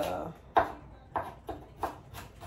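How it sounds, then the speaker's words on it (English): A knife finely chopping celery for a Creole-style potato salad, a few soft evenly spaced cuts on a board, faint and close with a muffled background. "I'm just chopping up my celery as fine as I could get it"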